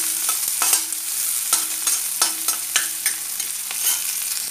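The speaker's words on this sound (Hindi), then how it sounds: "अनियन को थोड़ा गोल्डन होने तक भून लेते हैं" Onions frying in a pan until golden for litti chokha, loud steady sizzling broken by regular spatula scrapes and taps every half second or so, with no voices.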